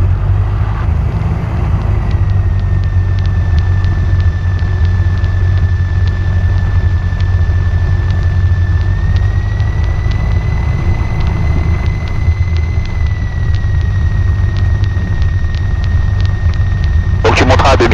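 Steady drone of a DR400 light aircraft engine as it lines up and begins its takeoff run, holding a constant pitch with a slight rise partway through, heard from inside the cabin under occasional radio and voice sounds.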